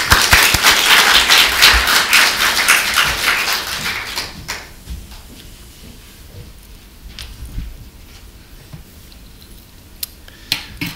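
An audience in a church service applauds to welcome an elder, a dense burst of clapping that starts loud and then thins out into scattered claps and faint room noise.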